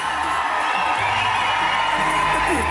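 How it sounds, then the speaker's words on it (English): A dense wash of crowd cheering and whoops at a film promotion event for Minnal Murali, loud and continuous throughout, with voices mixed into the roar. "a huge round of applause."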